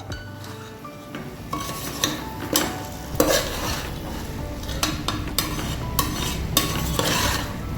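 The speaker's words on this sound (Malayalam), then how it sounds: "നെയ്യിൽ ഒന്ന് അരി വറക്കുക" Rice grains sizzle and fry in ghee in a hot pan while a spoon stirs and scrapes repeatedly, with occasional metallic clinks against the pot.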